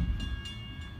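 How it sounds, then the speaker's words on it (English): Low rumbling of a passing train with a steady high metallic tone and faint periodic clicks, fairly close. "2 p.m. train, 90 passing, red caboose."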